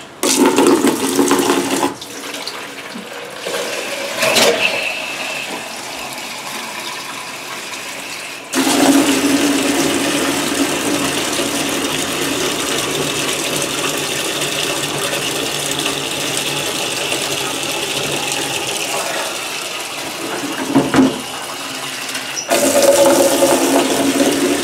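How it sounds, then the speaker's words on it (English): Water runs from a tap into a kettle while growth media is prepared, a steady rushing flow that stops and restarts twice with brief mechanical clunks between the runs, close and fairly loud. "So the first thing you want to do is fill your kettle with water."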